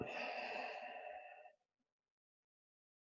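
A long, soft exhale through the mouth during a Qigong shoulder-lift breathing exercise, close and airy, lasting about a second and a half before fading into silence.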